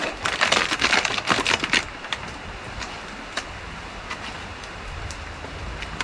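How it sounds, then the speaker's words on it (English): Rain patters heavily on a nearby surface in Bedugul, Bali, for about two seconds, then eases to a soft, steady hiss with occasional drips. "A little bit of rainy outside."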